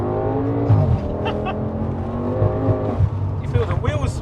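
High-horsepower family estate car accelerating hard on a B-road with its wheels spinning, a steady close engine drone under constant in-car talk.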